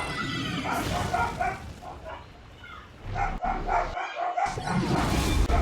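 Excited pet dogs yip and bark in quick bursts through the room, near and moderately loud, with a short pause midway, game sounds running underneath.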